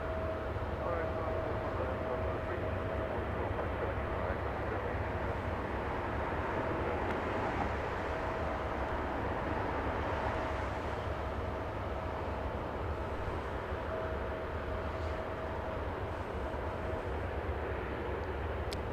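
A British Airways airliner at Los Angeles International Airport gives a steady, broadband jet roar that stays loud and continuous throughout, with a faint tonal whine running through it and talk over the top.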